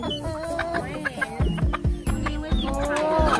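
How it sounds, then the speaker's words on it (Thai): A foreign egg-laying breed of chicken clucks nearby in a series of short, uneven clucks and squawks, with faint background murmur. "เป็นไก่สายพันธุ์ไข่ครับ"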